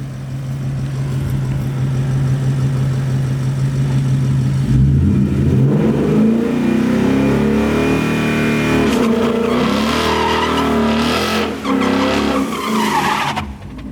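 A car held on the gas in a driveway burnout, engine roaring steadily and rising in pitch as the tires spin and skid, loud and continuous throughout with no talk.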